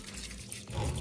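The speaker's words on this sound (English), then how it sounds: "I'm gonna pour this off and wash this once more" Water poured off cherries being washed for homemade Jamaican cherry juice, a brief, soft splashing pour that swells near the end.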